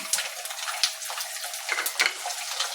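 About 50 grams of peeled garlic frying in hot oil with popped mustard seeds for mango pickle: a close, steady sizzle with scattered crackles and a few louder spits, no voices.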